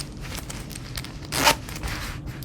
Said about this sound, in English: you do have this little zipper pocket in the front